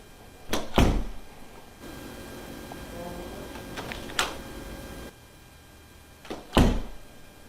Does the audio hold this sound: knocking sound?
yes